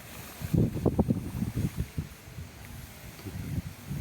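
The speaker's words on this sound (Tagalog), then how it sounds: "Medyo malakas ang hangin." Strong wind gusts buffet the microphone outdoors by a water spinach field during electric fishing for snakehead, producing low, uneven rumbling bursts that come and go over a few seconds.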